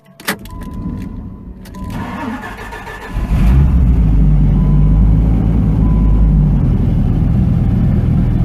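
A Dodge Viper in the rain, with clicks and a starting engine, then a sudden loud surge as the throttle opens and the wheels spin, holding a heavy low roar to the end.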